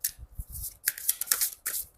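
Osho Zen tarot cards being shuffled by hand in quick riffling bursts with brief pauses between them, close and crisp, with no talking.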